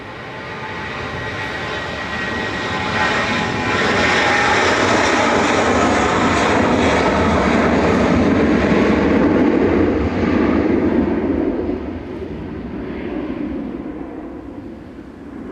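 Jet airliner engines roar steadily at Manchester Airport, a broad, loud rumble that builds over several seconds, holds, then slowly fades as the plane moves away.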